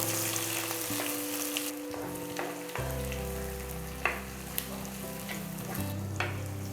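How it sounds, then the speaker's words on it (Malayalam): Crushed shallots, garlic and ginger sauté in a hot pan for a fried tuna fish curry in milk, giving a steady sizzle with a few sharp clinks and stirring scrapes over a low kitchen hum. "ഇനി നമുക്ക് ഇതിനകത്തോട്ടൊരു 10 ചുമന്നുള്ളി ചതച്ചത്, ഒരു 6 വെളുത്തുള്ളി ചതച്ചത്, ഒരു വലിയ പീസ് ഇഞ്ചി എടുത്ത് ചതച്ചത്, ഇത് ഇത്രയും കൂടി ഇട്ട് വഴറ്റിയെടുക്കാം"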